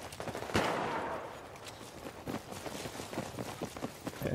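Machine gun fire in the video game Battlefield 4 comes as a loud blast followed by rapid bursts of automatic shots with scattered impacts, fairly close and dominating the mix.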